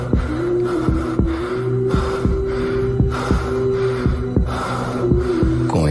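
Heavy, rhythmic panting breaths over a fast, regular heartbeat thump in a dramatized horror scene, the throbbing pulses evenly spaced and close, with a low sustained hum underneath and no talking.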